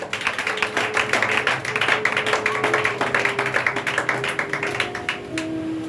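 Church congregation applauding in rapid, rhythmic claps, loud and close, with a sustained voice or tone running underneath throughout.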